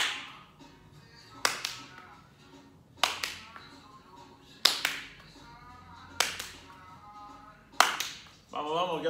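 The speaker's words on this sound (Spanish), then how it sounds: "Dos aplausos." Sharp single hand claps ring out in a roughly even rhythm, about six distinct claps spaced a second or so apart, during a ball-throwing exercise in an adaptive sports class, with an instructor's voice between them.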